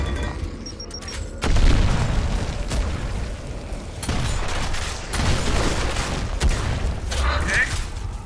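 Frag grenade explodes in the video game Gears of War, a sudden loud boom followed by rumbling gunfire and further blasts in a chaotic firefight, with voices heard in the background.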